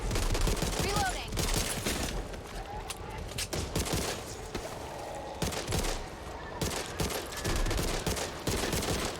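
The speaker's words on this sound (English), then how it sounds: "we just shoot zombies off in the distance, pull them towards us" Rapid, dense gunfire in the zombie shooter Back 4 Blood, loud bursts of shots firing almost continuously through the clip, with brief pauses and voices talking underneath.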